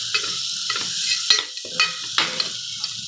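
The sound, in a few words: sautéing garam masala spices in a pan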